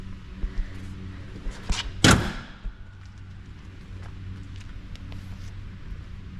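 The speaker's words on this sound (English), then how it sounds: "We'll shut this hood down." A single heavy metallic slam of a 1965 Chevelle SS hood being shut rings out, preceded by a few light clicks and followed by quiet rustling and faint background noise.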